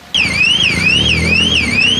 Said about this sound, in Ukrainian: тим часом спрацьовує сигналізація